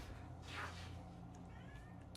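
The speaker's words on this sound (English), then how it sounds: "I don't know if you can hear my cat going nuts there in the background" A pet cat meows once in the background, a faint, drawn-out cry rising and falling over a steady low hum, with a thin whistle-like tone following.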